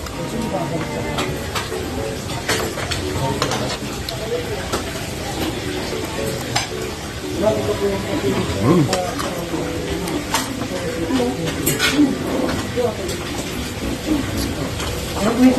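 Chicken frying at a busy fried chicken house and karinderya eatery in Baguio City, a steady sizzle with stirring and clattering pots, with people talking and restaurant bustle throughout.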